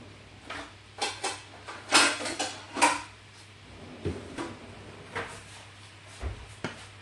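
A small lid set onto an apple and mascarpone verrine in a home kitchen, giving a few light clinks and taps of glass and plastic, with softer handling knocks after, close and fairly quiet.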